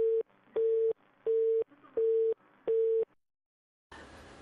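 Once a phone call hangs up, the line gives five evenly spaced busy-signal beeps, loud and clear, then falls silent before a burst of broadband noise.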